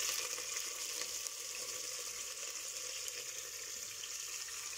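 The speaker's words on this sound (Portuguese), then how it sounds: "então agora o azeite está a ferver. Vamos lançar então os coentros." Olive oil sizzles steadily in a pan as coriander is added for clams à Bulhão Pato, a dense, even hiss that carries on without a break and with no voices.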